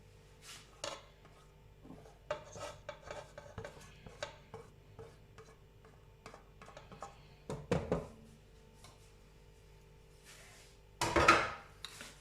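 Banana bread batter with eggs, butter and banana being mixed in a bowl: sporadic close clinks and scrapes of a utensil against the bowl, soft between stronger bursts, with no talking.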